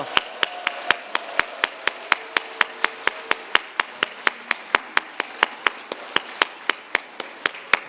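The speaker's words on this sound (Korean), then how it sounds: "우리 큰 박수로 경례하겠습니다." A church congregation at a Wednesday evening service for a seniors' group claps hard in a steady, even beat, about thirty sharp claps in a row close by, with a faint low hum under the first few seconds.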